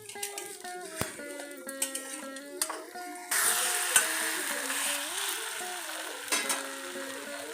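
Kara adai, a traditional spicy lentil-rice pancake, roasts in a pan with a continuous moderate sizzle, light scraping and brief tapping as it is handled, and a faint voice in the background.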